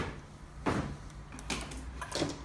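A car's central locking actuator fires via remote while the engine idles, giving a few sharp mechanical clunks against a low running rumble.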